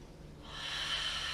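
A yoga breath, audible through the nose: a soft breathy airflow that swells into a steady, close hiss as the inhale deepens and holds, with no talking.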